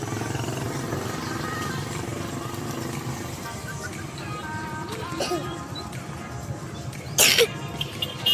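A person gives a single sharp, loud cough late on, rising briefly over a steady outdoor background with voices.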